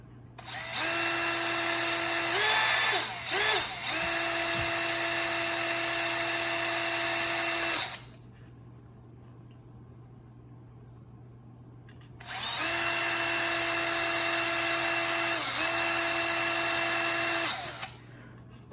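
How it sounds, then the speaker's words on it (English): A power drill bores through the bolster of an Aristocraft two-bay covered hopper model, whining loudly at a steady pitch in two long bursts of several seconds each, with a quiet pause and slight speed dips between them. "and then I'm going to drill all the way through."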